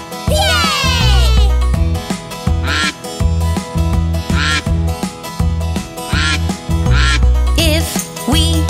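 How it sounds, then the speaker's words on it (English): A cartoon duck quacks repeatedly in a bouncy toddler nursery song, the quacks set against loud bass-heavy music with sung voices and sliding effects. "If we hear the sound, quack, quack, quack, quack, which animal could it be? A duck?"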